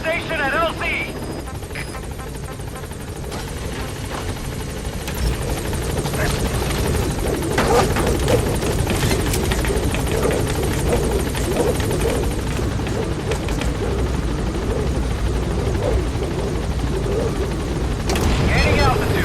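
A helicopter called Pequod in the Metal Gear Solid V video game whirs loudly and steadily close by, its rotor and engine drone holding constant while a voice talks over it.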